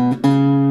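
A G Lydian chord strummed on guitar, a short attack that is quickly restruck and then rings out with steady sustained tones, heard alone.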